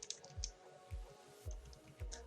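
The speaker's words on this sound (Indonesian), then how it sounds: "Kita masuk dengan mengetik admin" Keys tapped on a computer keyboard while entering the admin username at a MikroTik login screen, a few faint, evenly spaced clicks roughly half a second apart, quiet and close with no talking.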